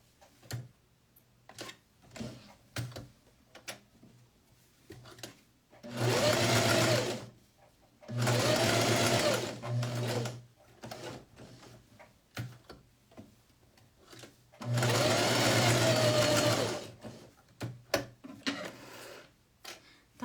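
A sewing machine stitches a jeans pocket, guided along the presser foot, in three separate runs of quick, even rattling, each a few seconds long, with quiet ticks and fabric handling in between.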